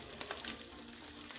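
Food fries in a non-stick pan, a steady, faint crackling sizzle with a few small pops, heard alone without talk.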